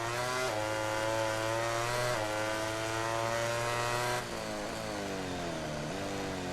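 Ducati racing motorcycle engine in the MotoGP 18 game, a steady high-revving whine held at full throttle with abrupt gear-change drops in pitch, then a downshift and falling revs toward the end, with no talk.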